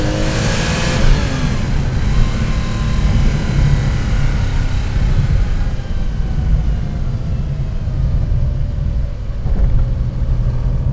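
A Porsche 911 Carrera 2.7 RS accelerates hard, its loud, close engine rumbling and rising in pitch through the revs as the speed builds steadily.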